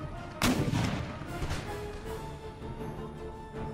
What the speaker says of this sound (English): you might actually start blasting the 16th with canister shot